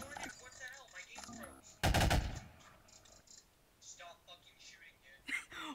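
Gunfire in the video game Garry's Mod: one loud, sharp burst of shots stands out amid quieter game sounds, with players talking and shouting over it.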